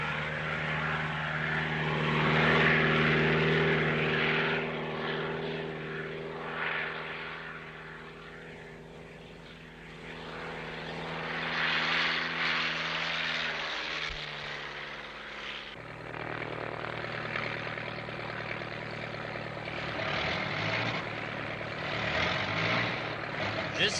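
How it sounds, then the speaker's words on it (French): A propeller airplane's engine sputters while in flight, a steady droning hum that shifts pitch and roughens partway through, with faint voices at times over the continuous engine noise. "Le moteur cafouille."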